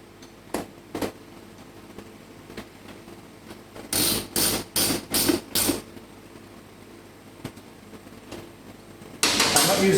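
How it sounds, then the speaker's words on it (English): A 13mm spanner works a bolt while an aftermarket exhaust is fitted to a KTM 1290 Super Adventure motorcycle. Scattered metallic clicks give way to a quick run of five loud ratcheting bursts, then another loud burst near the end. "The bolt at the back's a 13mm spanner."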